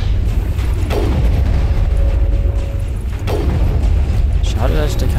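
Rocket explosions in the Mass Effect video game, Pinnacle Station, burst as a few heavy booms over a constant rumble of combat noise, with someone talking over them.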